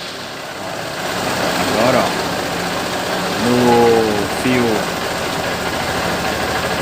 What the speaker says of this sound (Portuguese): Funciona a moto agora.